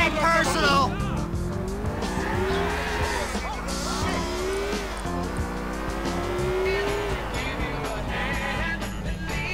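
A car driven hard in the video game GTA: The Lost and Damned, its engine droning steadily and loudly with rising and falling pitch and tires squealing, while a person talks over it.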